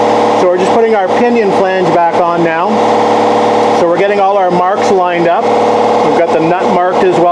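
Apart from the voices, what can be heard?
air compressor charging up in background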